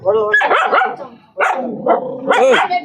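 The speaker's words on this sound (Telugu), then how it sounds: "ఏంది ఆ కుక్కలు ఉన్నారా" Dogs bark close by in loud, bright bursts: a rapid run of barks, a short pause, then more barking, mixed with voices.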